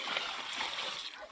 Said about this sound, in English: I'm just carrying water to water my plants.